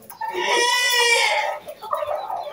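Brooding hens give one loud, drawn-out call close by, followed by softer, broken clucks.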